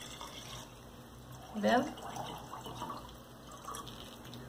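Coconut water from two coconuts poured out of a small jug, a soft liquid splash and trickle that swells briefly near the middle, with a voice speaking over it.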